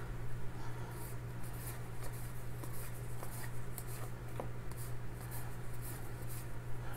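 Baseball trading cards from a Topps Gypsy Queen case break being shuffled by hand, a faint run of soft rustles and light flicks over a quiet, steady background hum.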